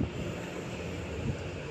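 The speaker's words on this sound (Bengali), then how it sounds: "এখন এত ঝোড়ো হাওয়া দিচ্ছে যে প্রত্যেকটা জানলা পর্যন্ত বন্ধ করে দিয়েছি" Strong, stormy wind sweeps across a balcony garden, buffeting the microphone with a steady, low, rushing roar that swells slightly near the start and again briefly later, with no voices.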